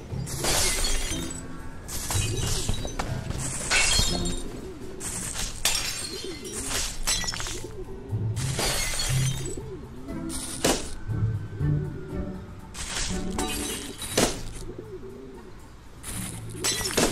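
In the Spider-Man: Homecoming video game, rapid-fire web bullets hit a bottle, producing repeated sharp glass-shattering crashes and bursts spread across the stretch over a busy background of game sound effects.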